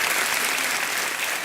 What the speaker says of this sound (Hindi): तालियों के साथ आपका हम स्वागत